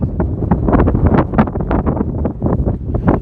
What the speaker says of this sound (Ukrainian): Дуже великий вітер у нас, може погано чутно